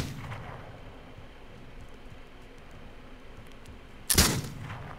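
In the video game This Land Is My Land, a single loud gunshot cracks near the end over a quiet bed of low ambient game noise, with a faint earlier pop.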